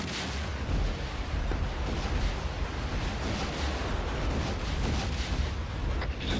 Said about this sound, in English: Watch out, more rockets. Oh, those are coming real real close.